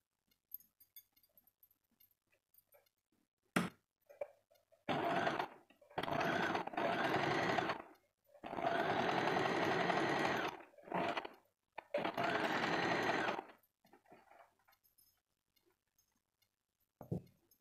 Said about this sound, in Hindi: अब हम इन दोनों शोल्डर की सिलाई कर देते हैं।